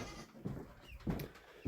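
Two separated goats bleat and cry out in two loud, distressed calls about half a second apart, close by and with no talking.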